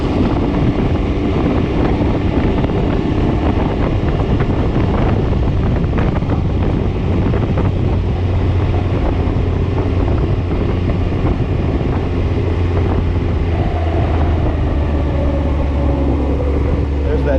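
A 2019 Can-Am Ryker Rally three-wheeler rolls along while decelerating, its drivetrain groaning low and steady beneath heavy, continuous wind buffeting on the microphone.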